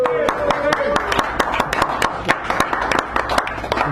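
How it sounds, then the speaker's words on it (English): A small group at a cafe poetry reading claps, with sharp, uneven handclaps close by and a faint voice briefly audible at the start. "Give him a round of applause!"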